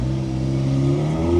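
A very loud Audi S3 engine revs hard on a Paris street, a sustained close roar that climbs steadily in pitch.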